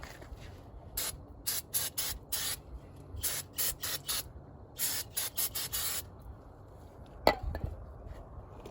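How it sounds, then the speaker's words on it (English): A series of short aerosol spray bursts onto a Honda Civic brake rotor, each a sharp hiss lasting under a second, repeated in quick clusters with brief pauses, followed by a metallic clink. "Spray this side."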